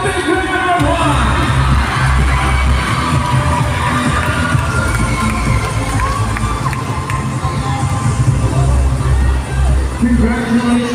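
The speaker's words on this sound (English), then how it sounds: "let's give them a big round of applause." Loud, sustained crowd cheering and shouting from a pageant audience greeting the top five finalists, a dense roar with whoops and some clapping that carries unbroken through the whole stretch.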